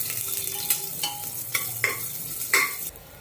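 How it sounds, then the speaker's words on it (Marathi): Green chillies and cumin frying in ghee for veg pulao, a soft sizzle under scraping stirs with several clinks of a spatula against the pan, close by and without talk. "त्या आपण त्या तुपामध्ये टाकून घेऊन परतून घेऊया"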